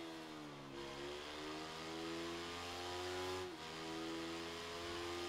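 A small motorcycle engine in the racing game Ride 3 revs high and steadily, with its pitch dropping sharply at two gear changes before climbing again. The whine stays continuous and close, with no talk.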